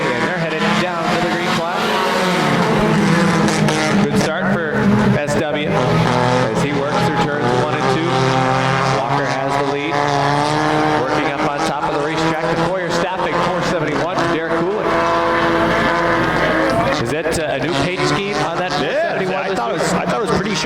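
Dirt track race cars roar around the oval at Airborne Speedway in Plattsburgh, New York, a dense, continuous wall of engine noise with rising and falling revs as cars pass, an announcer talking excitedly over it throughout.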